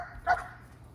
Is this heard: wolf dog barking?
yes